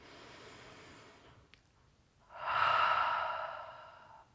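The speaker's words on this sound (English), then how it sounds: "Inhale with your nose. Exhale with a sigh." A slow yoga breath: a faint nasal inhale, a brief pause, then a louder, longer exhale released as an audible sigh, close and alone.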